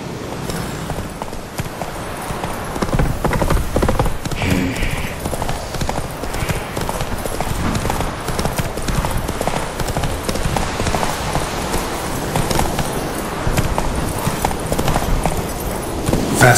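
Roach, the horse in The Witcher 3 video game, gallops with rapid, continuous hoofbeats that pound steadily and close throughout.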